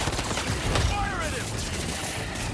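Gunfire rattles off in a quick burst during Spider-Man 2 video game action, loud and dense early on before fading under a busy wash of game sounds.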